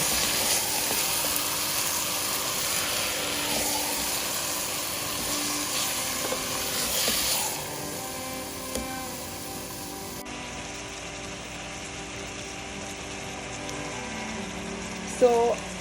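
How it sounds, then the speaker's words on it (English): Chicken sizzles in a hot pan with a broad, continuous hiss. The frying is loud at first and then quiets to a softer crackle. "the chicken is sizzling, as you can see"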